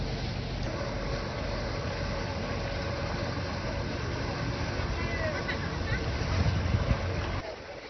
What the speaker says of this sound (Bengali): দেখছেন একের পর এক লঞ্চ ট্রলারগুলো গভীর সমুদ্রে বেরিয়ে যাচ্ছে মৎস্য